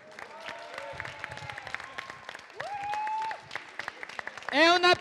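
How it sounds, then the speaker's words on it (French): A small audience applauds a participant at the close of a French comic-drawing workshop event, with scattered clapping mixed with voices and a brief louder burst near the end. "Et on applaudit bien fort Nicolas pour cette proposition."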